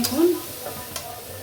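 Spice paste fries in a pan for a beef liver curry, a brief close hiss and crackle broken by quick scraping strokes from stirring.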